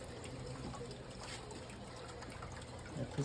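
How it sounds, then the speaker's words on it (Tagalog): Water trickles steadily in a saltwater fish tank in a basement, a soft continuous bubbling wash at low level, with a faint knock at the very end. "That is salt water fish tank."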